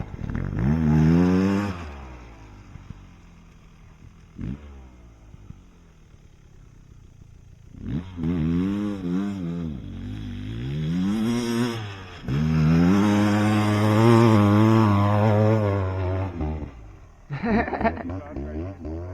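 Dirt bike engine riding in the pits, loud buzzing revs that climb and drop in long pulls with quieter idle gaps, close by, with voices talking at times.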